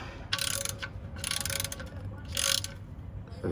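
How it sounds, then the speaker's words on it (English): A wrench tightening the oil filter on a 2016 Honda Accord Sport makes three separate bursts of close, bright ratcheting clicks, with short pauses between them and no one talking. "We actually want to use a wrench."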